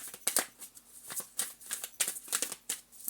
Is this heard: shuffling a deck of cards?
yes